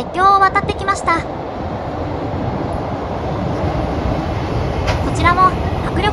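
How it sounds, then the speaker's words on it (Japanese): A long freight train rumbles across an iron railway bridge, a steady broadband roar with clattering wheels holding throughout, joined by brief squealing tones near the start and end. "長い長い貨物列車が鉄橋を渡ってきました。"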